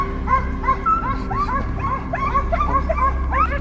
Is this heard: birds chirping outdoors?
no